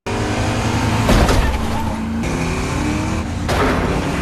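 Car engines roar and rush past during a chase sequence in a film, a loud continuous surge of motor noise with sharp bursts and swells.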